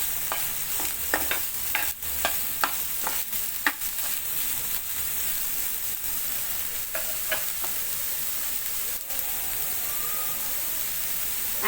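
A spoon stirs salted cauliflower chutney in a hot pan, giving a string of sharp scraping knocks over a constant hiss of sizzling; the strokes cluster early, then thin out while the frying noise continues alone.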